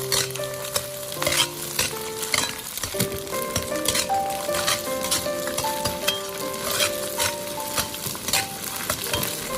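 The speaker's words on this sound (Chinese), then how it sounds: "接着把香肠放入锅中，再快速的翻炒，炒出香味。" Sausage slices and scrambled egg stir-fried in a wok for egg fried rice: close, continuous sizzling with repeated scraping and clinking of the spatula against the pan, steady and fairly loud throughout.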